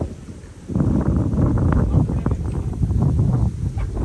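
Wind blowing over a rice field, a low rushing buffet against the microphone that starts suddenly and stays steady and fairly loud.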